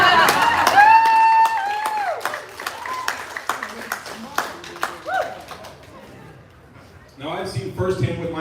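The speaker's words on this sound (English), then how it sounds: "Give me a round of applause, man." Crowd applause with scattered clapping at a political rally about freedoms, loud at first then thinning into sparse claps before a brief swell near the end.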